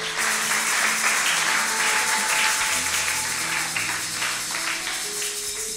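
A church congregation applauds in a continuous dense patter of many hands, loud and sustained, with a tonal hum from instruments or voices beneath.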